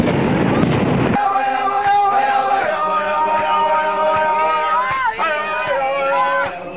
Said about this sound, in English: And stun grenades.